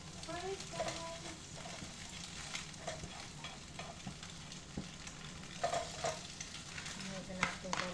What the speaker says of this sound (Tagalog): Ito natin kailangan i-fry ang ating rice.